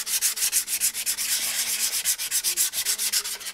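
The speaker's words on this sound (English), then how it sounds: "now I'm sanding CA so that I've got an even surface" Small sanding block rubbed back and forth over hardened CA glue during a Honda NS 250 restoration, a steady, close scratchy rasp in quick regular strokes with no talking.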